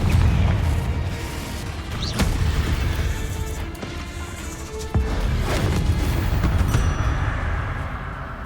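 Confringo spell explosions in the video game Hogwarts Legacy, deep booming blasts with rumbling low crashes, one sharp hit near the start and another midway, over a continuous dense roar of game effects.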